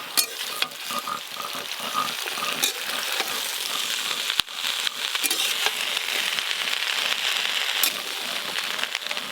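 Chopped bottle gourd greens frying in fish oil alongside lightly fried potatoes, a steady close sizzle with crackling pops and occasional clatters of stirring, continuing for about nine seconds with no talk.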